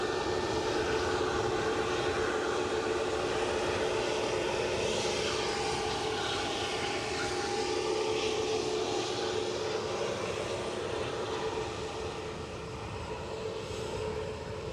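An EasyJet airliner at Edinburgh airport gives a steady, loud jet roar that fills the whole stretch, dipping only slightly near the end, with no voices over it.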